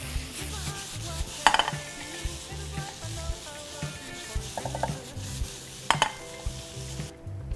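Mushrooms with garlic and Italian herbs sizzle steadily in a hot pan, with a couple of sharp metallic clinks and scrapes of a utensil stirring against the pan.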